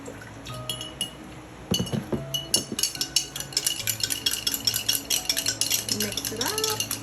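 A spoon or whisk clinks rapidly against a glass bowl while a soy sauce marinade is mixed, bright repeated ticks building into a steady, close stirring rhythm with a faint liquid slosh.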